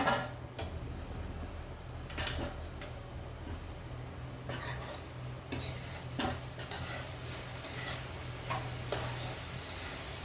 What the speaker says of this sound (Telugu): ఇది మూత తీసి ఒకసారి కలిపేసుకుందాం మంచిగా